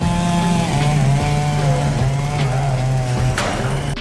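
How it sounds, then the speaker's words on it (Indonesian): A chainsaw wielded by a clown in a Halloween horror movie scene drones loudly and continuously, its engine note wavering in pitch with a few sharp bangs over the roar and no speech. "badut itu pun menyerangnya dengan mesin gergaji."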